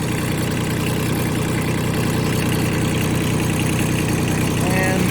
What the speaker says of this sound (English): There we go. The engine is now running.